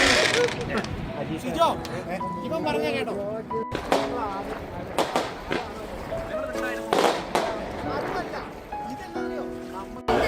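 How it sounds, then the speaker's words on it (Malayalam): Vishu festival fireworks going off at sunset, with repeated distant pops and crackling bursts scattered throughout, heard beneath steady talking voices. "ഇവിടെ കുറച്ച് ഫയർ വർക്ക്സ് നടന്നുകൊണ്ടിരിക്കുകയാണ്."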